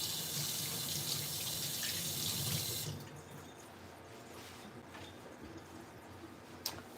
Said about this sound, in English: I'm gonna rinse.